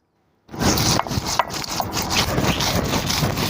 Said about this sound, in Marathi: भाजून घेतलेले पूर्ण मसाले पाट्यावर वाटून घेऊ